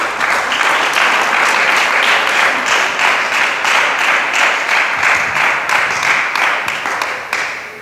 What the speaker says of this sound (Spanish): Dele palmas al Cristo de la gloria.